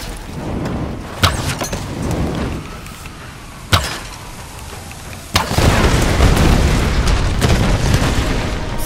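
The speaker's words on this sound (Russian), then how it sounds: "Стрела взрывает" Explosive arrow blasts in the Tomb Raider video game: three sharp booming bursts at uneven intervals, the last swelling into a sustained rumbling roar, all set over a steady windy background.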